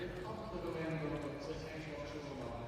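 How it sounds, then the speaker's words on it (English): Carriage-driving horses trotting in an indoor arena at a World Cup driving competition in Maastricht, with hoofbeats running steadily through a dense, noisy crowd backdrop while a commentator talks over them. "the way he can keep the horses, you know, at the very least it's a forward trot"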